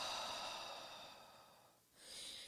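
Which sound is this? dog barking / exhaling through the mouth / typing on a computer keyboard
exhaling through the mouth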